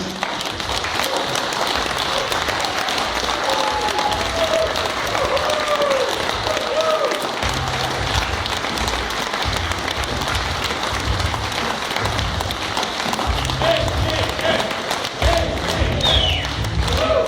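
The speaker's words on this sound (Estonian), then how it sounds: "Ma palun veel kord kõigil väga suur aplaus meie kandidaatidele" A crowd at an EKRE presentation of Riigikogu candidates for Läänemaa and the islands claps loudly and continuously, dense sustained applause with a few cheers and voices mixed in.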